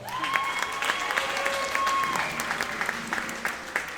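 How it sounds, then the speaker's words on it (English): Crowd at a middle school fall band concert clapping for a student player, an even stream of applause with some cheering and whistles on top, moderately loud and continuous. "Give her a round of applause."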